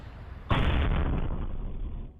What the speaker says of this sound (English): One of the explosions Pasadena police are blaming on Art Leon Bidian.